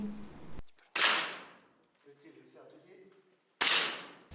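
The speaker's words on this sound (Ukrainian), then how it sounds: "стріляє із пневматичної гвинтівки" Two sharp, loud air rifle shots several seconds apart at a youth military-sport competition in Vinnytsia, each a crisp crack, with a quiet murmur of voices in between.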